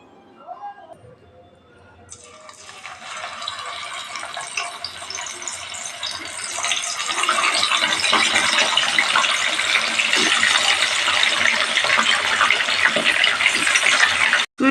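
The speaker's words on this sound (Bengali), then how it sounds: "এরপর তেলে এক এক করে ভেজে নেব।" Fish coated in salt and turmeric fries in hot oil, starting as a quiet hiss after a soft voice and swelling into a loud, dense, continuous sizzle that holds steady until it cuts off abruptly.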